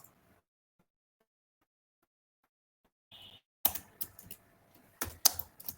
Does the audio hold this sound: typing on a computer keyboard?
yes